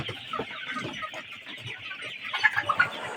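Egyptian Fayoumi chickens on a farm in Gazipur or Dhaka give soft, overlapping clucks and murmurs, with a few sharper calls near the end, moderately close and unaccompanied by speech.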